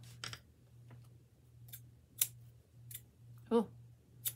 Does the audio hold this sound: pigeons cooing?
no